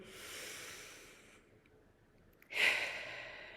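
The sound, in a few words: deep breath in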